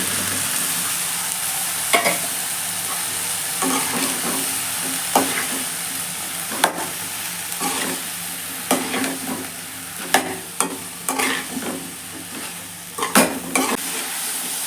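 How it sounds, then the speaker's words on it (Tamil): Cauliflower and tomato sizzle steadily in a hot pan while a spoon stirs and scrapes through them, with close, repeated clatters over a continuous frying hiss. "இப்போ காலிஃப்ளவர் சேர்க்குறேன்."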